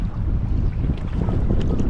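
Steady wind buffets the microphone while kayaking upstream on a river near Emerald Cave in Arizona, a continuous loud low rumble with no one speaking.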